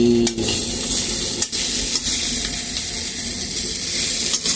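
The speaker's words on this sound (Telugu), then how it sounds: "ఇక చూడు బెండకాయలు ఎలా వేగిపోయాయో. క్రిస్పీ బెండి." Okra fries crisply in a hot pan, a steady loud sizzle with scraping stir strokes throughout and no talking.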